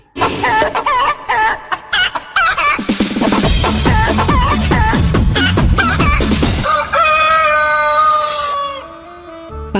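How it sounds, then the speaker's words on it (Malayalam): A rooster crows loudly and close, with repeated clucking and other fowl calls around it, busy and continuous throughout. "യെസ് അവനാണ് പൂവങ്കോഴി"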